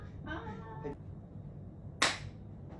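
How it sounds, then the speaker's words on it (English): One crisp, close hand clap rings out alone as a sync marker while recording is set up for a regional EMS awards presentation, coming after a short stretch of quiet voice against low room noise. "Tarsha, give me clap."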